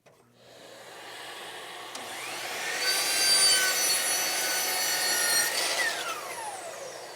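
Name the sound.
saw making miter cut in wood board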